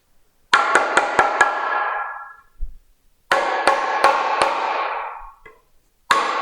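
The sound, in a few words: pounding and impact test on portable work station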